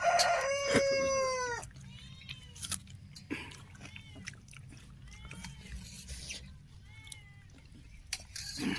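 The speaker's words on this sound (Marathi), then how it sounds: "कोंबडा आहे काय म्हणले कोंबडा बघ तिथं खाली" A rooster crows loudly near the start, followed by fainter scattered clucks and bird calls in a quiet rural yard.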